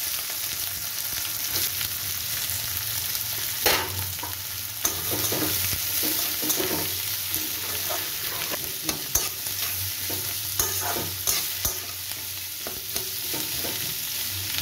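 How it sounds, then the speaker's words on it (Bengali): Sliced onions frying in hot oil with whole spices (cinnamon, mace, cardamom) in a pan, a steady close sizzle broken by the repeated scrape and clatter of a spoon stirring, with no talking. "এবার আমি এর মধ্যে পেঁয়াজটা দিয়ে দিচ্ছি।"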